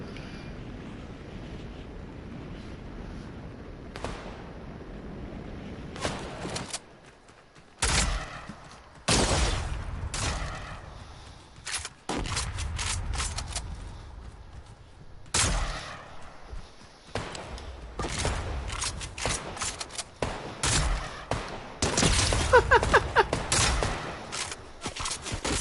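Gunfire in Fortnite comes in loud, abrupt bursts of rapid shots separated by quieter gaps, with heavy thumping impacts clustering more densely toward the end.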